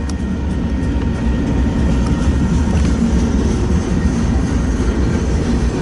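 Freight train passing with a Norfolk and Western boxcar, a loud continuous low rumble and rolling wheel noise close by, steady throughout with faint rattling of the cars.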